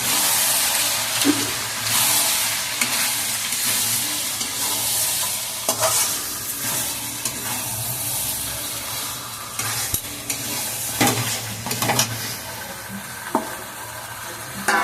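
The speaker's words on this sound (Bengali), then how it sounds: "চিংড়ি মাছগুলোকে ভালো করে কষিয়ে নেব" Giant freshwater prawns (golda chingri) and their legs sautéing in a pan for prawn biryani, a continuous close sizzle with repeated spatula scrapes and stirring clatters throughout.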